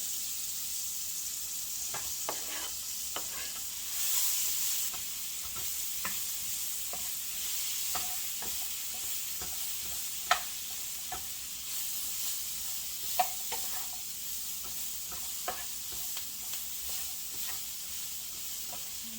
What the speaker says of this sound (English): we'll go over to the stove and we'll saute up the vegetables